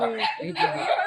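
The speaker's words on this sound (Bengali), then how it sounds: "কুকুর ঘেউ ঘেউ করছে" A dog barks in a few short, sharp yaps close by, mixed with a person speaking over the barking.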